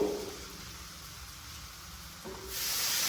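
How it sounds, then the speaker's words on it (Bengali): A splash of water goes into a hot wok of frying masala with garlic and chilli, and a quiet sizzle swells into a louder steady hiss of steam over the last second. "ভালো করে করার জন্য একটু সামান্য জল দিয়ে দেবো,"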